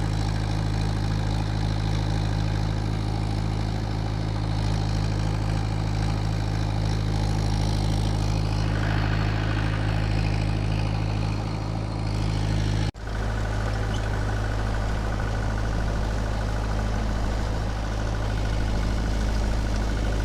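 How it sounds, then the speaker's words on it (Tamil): A Mahindra 575 DI tractor engine idles on farmland with a steady, deep, throbbing rumble. It stays close and constant throughout, with one sharp click near the middle. "நம்ம வண்டியோட சவுண்டு நல்லா இருக்குதுங்க."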